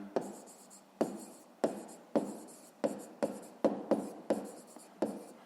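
Pen on paper while writing out a 5th-grade math exercise: a steady run of about ten sharp, close scratching strokes, each a quick tap followed by a fading scribble, evenly spaced at roughly half-second intervals.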